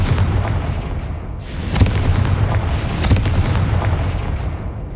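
A Confringo blasting spell fires in the Hogwarts Legacy game. Loud booming blasts with sharp crackling bursts come in quick succession over a heavy low rumble.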